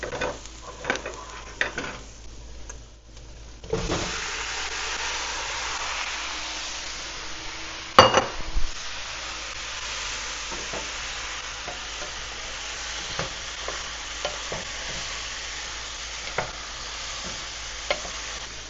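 Tomatoes tipped into a hot pan for homemade ketchup sizzle steadily, with a brief louder hiss and clatter as they go in and occasional stirring scrapes over the continuous frying.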